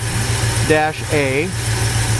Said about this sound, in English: It's a fantastic running 283 engine. Nice and quiet, nice dual exhaust.